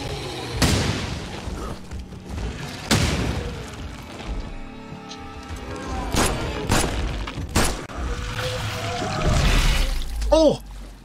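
Several sharp booming blasts from the video game The Sinking City burst out among rumbling effects and chaotic noise, with a rising warbling tone near the end.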